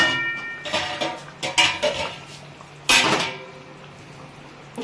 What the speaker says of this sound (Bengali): এই সময়টা জাস্ট খুন্তিটা দিয়ে একটুখানি চালিয়ে দিতে হবে